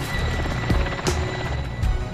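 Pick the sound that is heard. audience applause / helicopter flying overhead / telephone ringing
helicopter flying overhead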